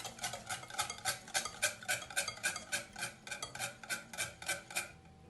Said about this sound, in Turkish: Kabartma tozumuzu da. Güzel yine karıştıralım.